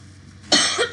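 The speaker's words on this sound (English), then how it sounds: "I have a little cough" A single short cough, close and fairly loud, with a brief raspy tail.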